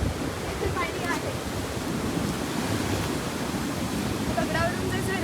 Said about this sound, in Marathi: दगडावरून जे झरे येतात